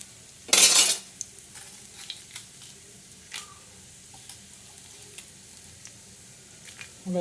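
Red chillies frying in hot oil for a village-style black masala for mutton: one loud burst of sizzling at the start, then a soft, steady sizzle with scattered clinks and scrapes of a utensil against the pan.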